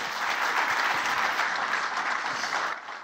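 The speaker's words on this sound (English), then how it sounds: "Round of applause, please" A seated audience at a talk gives a moderate round of steady clapping that carries evenly, then drops off sharply near the end.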